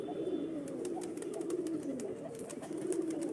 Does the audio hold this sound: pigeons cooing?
yes